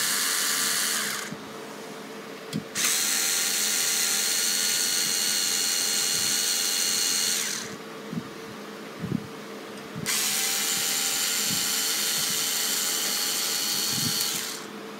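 A power drill whirs in two long bursts, each several seconds, with a short pause and faint knocks between them; close and loud.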